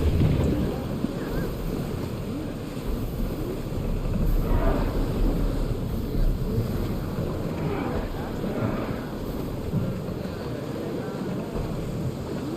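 Sailing ship under way at sea in Assassin's Creed Odyssey, with steady broadband wind and rushing water filling the whole stretch, continuous and fairly loud, with faint voices now and then underneath.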